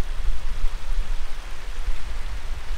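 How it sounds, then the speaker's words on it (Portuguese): A small stream runs along a countryside trail in Apiacá, Espírito Santo, producing a steady, soft wash of flowing water with continuous gurgling and no voices. "Tem um corguinho que passa."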